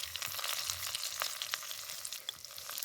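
Curry leaves and turmeric spluttering in a hot tempering for dal, a faint, steady crackling sizzle with a few light pops and no speech.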